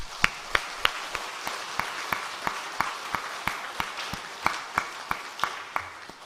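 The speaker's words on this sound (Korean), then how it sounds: "존경과 사랑, 감사의 마음을 담아서 한번 박수를 보냈으면 좋겠습니다." Rhythmic clapping from a Presbyterian church congregation, sharp regular beats about three per second over a soft background, moderately distant and with no one talking.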